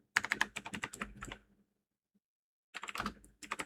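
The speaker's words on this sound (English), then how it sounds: "type the simple prompt" Quick bursts of keystrokes as a prompt is typed on a computer keyboard, in two close, clear runs separated by a silent pause of about a second.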